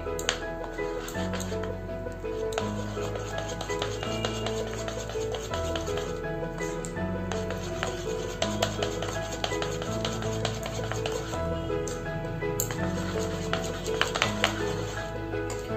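A spoon rubs and stirs steadily through custard cake batter in a bowl, making continuous soft scraping and swishing for several seconds over a low background hum.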